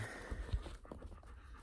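Close, quick panting from dogs on a warm day, a few rapid breaths in a short burst with faint huffs.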